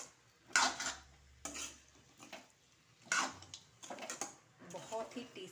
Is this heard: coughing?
no